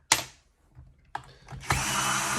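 A power drill backs machine screws out of the rear of a Paslode nail gun, with short bursts of whirring and then a sustained spin, close and loud between handling knocks.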